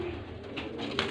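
Pigeons at a breeder's sale in Faisalabad give a low, soft cooing, a brief murmuring call heard fairly close over a quiet background.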